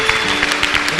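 A church congregation claps in a brief burst of applause, a dense, close patter of hands with a sustained tone running underneath.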